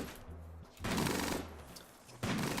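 Gunfire from an inaccurate weapon in the colony game Rimworld crackles in two loud, dense bursts, separated by a slightly quieter stretch of continuing fire.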